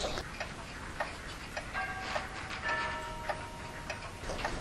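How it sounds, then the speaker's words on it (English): Several clocks tick together on a museum shelf, a steady overlapping tick-tock with faint chimes or tones ringing partway through, fairly quiet indoor ambience and no voices. "on a shelf besides some ticking clocks"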